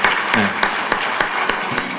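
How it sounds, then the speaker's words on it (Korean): An audience claps for a teacher at a commemorative gathering, giving a short burst of applause with a few sharper individual claps standing out over a steady patter. "여러분 우인섭 선생님을 큰 박수로 오래오래 박수로 여러분 박수를 부탁드리겠습니다"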